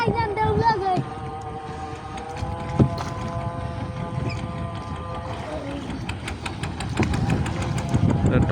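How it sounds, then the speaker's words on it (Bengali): A trawler's engine drones past at sea near the Bangladesh coast, its steady tonal hum shifting as it moves, amid wind and crashing waves with people talking nearby. "ট্রলার যাইতেছে দেখতে পাচ্ছেন"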